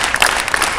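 A street crowd in London claps in unison for a performer doing a bed-of-nails act, giving a quick burst of a couple of sharp, fairly loud group claps.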